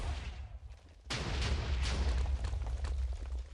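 TNT cannon firing in Minecraft during a WarGears match, its higher chunk detonating first and slamming the rest: a low rumbling start, then a sudden loud blast about a second in, followed by a sustained crackling roar of explosions.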